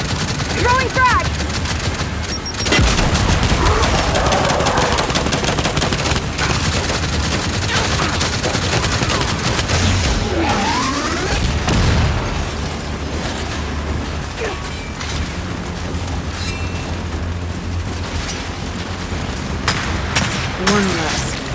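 Heavy gunfire and booming frag grenade blasts from the Gears 5 video game, a dense, loud, continuous barrage with sharp bursts near the start and middle, and voices faintly mixed in.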